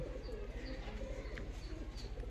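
A single female pigeon coos repeatedly at a pigeon sale, soft and close, with a steady low background hum and faint chirps from other birds nearby.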